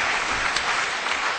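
Audience applause at a plenary debate on apostasy laws and freedom to criticise religion, a steady dense wash of many hands clapping at once, fairly loud and even throughout with no voices over it.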